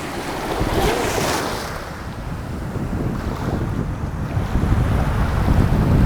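Sea waves wash and break steadily on a Bali shore, a loud continuous surf roar with wind buffeting the microphone and swells rising toward the end.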